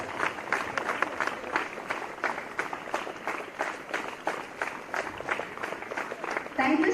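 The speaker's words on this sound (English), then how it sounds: "So please give a big round of applause here." A crowd claps through a round of applause at a school sports day honoring a guest who lit the Olympic torch, steady dense clapping with voices mixed in at moderate loudness.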